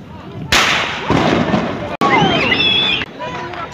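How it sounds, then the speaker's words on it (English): Fireworks in Minecraft during a Fourth of July event, a few loud bursts followed by sparkling crackles and whistling trails in quick succession, close and prominent. "Today's a great day where everyone experienced great fireworks."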